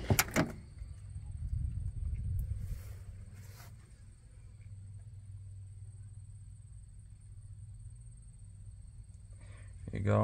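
A side compartment door on a 1980 Ford F700 service truck is opened with a sharp metallic clunk and rattle, followed by a faint low rumble and another clunk at the end, with speech nearby.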